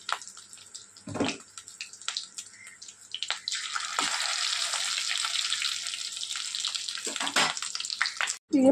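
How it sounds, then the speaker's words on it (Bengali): A steady, close hiss of fish roe frying in a pan, with a few soft clinks and taps near the start and end. "মাছের ডিমটা ভাজা হয়ে গিয়েছে।"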